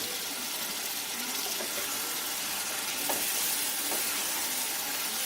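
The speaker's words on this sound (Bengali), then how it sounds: "এবারে এর মধ্যে আমি ভেজে রাখা আলুটা দিয়ে দিলাম।" Fried potatoes tipped into a pan of cooked-down spice paste, giving a soft, steady sizzle and hiss with a few faint clinks, quiet and continuous with no talk.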